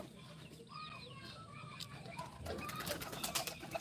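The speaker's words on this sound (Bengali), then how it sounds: "হাঁস মুরগি কবুতরকে খাওয়া দাওয়া হয়ে গেছে" Chickens and pigeons at feeding time make soft, faint clucks and coos, with scratchy pecking and rustling noises building in the second half; the whole scene is quiet and distant.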